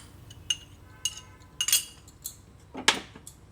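A spoon clinks sharply against a pot while slurry is stirred into sweet corn soup, giving a handful of scattered metallic taps with short gaps between them and no voices.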